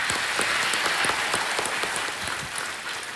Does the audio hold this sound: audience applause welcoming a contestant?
yes